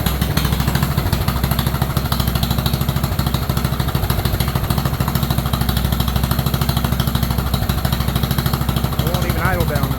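An old John Deere tractor engine idles low and steady up close, a continuous rhythmic chugging throughout with brief talking near the end.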